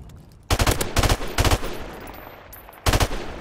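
Video game gunfire: four loud, close bursts of rapid automatic shots, each lasting a fraction of a second, separated by short pauses with lingering reverb.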